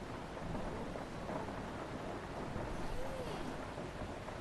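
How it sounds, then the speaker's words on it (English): Rain beats on a bus windshield in a bus simulator game on PS5, a constant dense wash of drops with low rumbling underneath, fairly quiet and unbroken throughout. "you can see the rain still running down"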